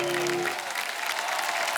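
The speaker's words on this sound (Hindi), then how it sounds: "आप सबकी जोरदार तालियों के बीच" A television studio audience claps to welcome a guest onto a comedy talk show, a brief burst of dense applause as a fading musical tone trails off underneath.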